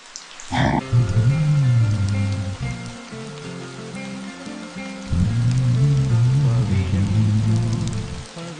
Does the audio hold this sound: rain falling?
yes